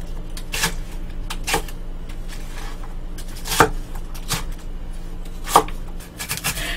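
Knife roughly chopping red chili peppers on a cutting board for kimchi in irregular, spaced strokes, close and crisp, with a faint background hum between cuts.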